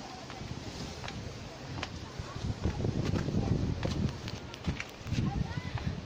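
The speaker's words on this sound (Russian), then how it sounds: "Тут уже ветер." Gusty wind buffets the microphone with a constant low roar, rising and falling in strength, alongside scattered footsteps and light crunching on a rocky coastal trail in Novyi Svit, Crimea.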